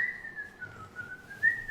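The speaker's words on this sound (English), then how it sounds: "like someone pleasantly whistling to themselves" A person whistles a wavering single-line tune, soft and alone, the pitch gliding gently up and down over a couple of seconds.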